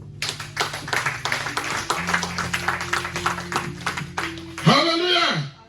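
A church congregation bursts into steady, lively clapping to acclaim God, with sustained musical tones underneath, then a loud voice cuts in near the end.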